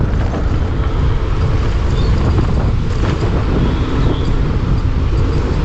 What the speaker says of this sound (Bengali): এখন যে হাওয়াটা দিচ্ছে এই হাওয়াটা একটু মিষ্টি মিষ্টি মনে হচ্ছে